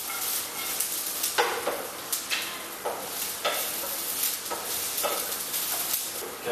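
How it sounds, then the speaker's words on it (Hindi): Shredded cabbage is sautéed with cooked ginger and garlic in a pan for egg fried rice, a hissing sizzle broken by regular spatula strokes and scrapes every second or so. "अब इसमें ऐड करेंगे कैबेज, थोड़ा सा कैबेज लगभग 3 से 4 चम्मच और इसको सॉस करना है"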